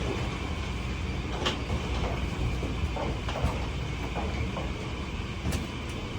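An airport people-mover train running between concourses gives a steady rumble with faint clicks and rattles throughout, heard from inside the car, with no talk over it.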